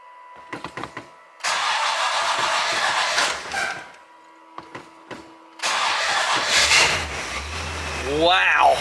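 A 1961-64 Bonneville engine cranks on a hi-torque starter (PN423NG): two long, loud, close bursts of fast mechanical churning, separated by clicks, with someone talking in between.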